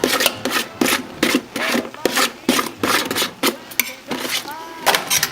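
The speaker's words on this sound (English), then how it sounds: "Just scrape all that goodness in there." A utensil scrapes egg roll filling of onions, carrots, bok choy and bean sprouts into a pan in a series of close, rough strokes.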